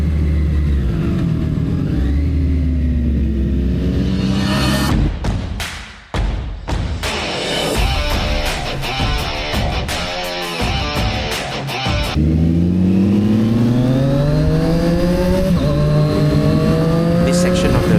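A motorcycle on Michelin Power GP2 tires accelerating hard, its engine climbing loudly in pitch through the gears with a sharp shift break midway and wind roar throughout, with someone talking over it.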